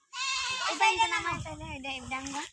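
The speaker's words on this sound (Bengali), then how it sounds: "ছাগল মে মে করতেছে ওই যে ছাগল ওদিকে দেখেন মে মে করতেছে" A goat bleats nearby in a village setting, a long wavering call with a few pitch bends, close and clear. Voices and background talk run underneath it.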